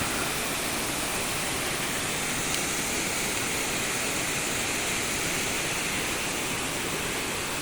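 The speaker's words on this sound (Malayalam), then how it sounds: "വെള്ളച്ചാട്ടത്തിന്റെ ഭാഗങ്ങളാണിത്" Aruvikuzhy waterfall at Thadiyoor, Pathanamthitta, pours in an unbroken, dense roar of rushing water, steady and enveloping with no pauses.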